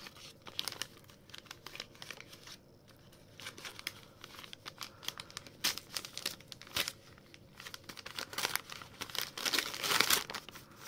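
Paper crinkles and rustles in irregular bursts, nearby, growing busier and louder toward the end, with no voices.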